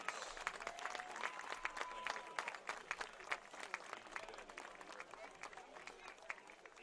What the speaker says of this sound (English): how about one more round of applause for our 2021 CMU Cheer and Dance Senior Class